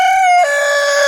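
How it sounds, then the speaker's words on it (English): Chickens being let out in the morning, with a single loud, close rooster crow that holds a steady pitch, then drops to a lower drawn-out tail, and no voices. "I'm out here letting these chickens out."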